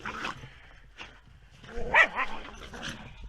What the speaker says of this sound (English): These two dogs, like, what can I say?